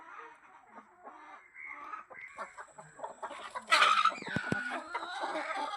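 Free-range country chickens cluck and call in a farmyard, with several short clucks building to a louder squawk near the middle, then continued mixed fowl sounds close by.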